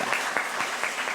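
Brief round of clapping from a church congregation at a Sunday service, many hands together at an even pace, fairly close and full, with no one speaking over it.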